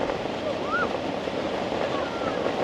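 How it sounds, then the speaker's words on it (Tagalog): Strong ocean waves at the shore: a continuous broadband surf roar with wind buffeting the microphone, steady and close, with faint voices nearby. "lakas ng alon talaga"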